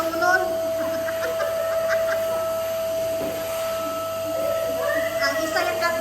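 A vacuum cleaner runs steadily throughout while a newly renovated school is being cleaned, a constant whine holding at one pitch with faint background voices and clatter around it.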